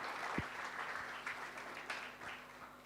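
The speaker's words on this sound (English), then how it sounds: "a round of applause for the organizers" A conference audience at an open source community event claps for the organizers, a short burst of steady applause from a room full of people.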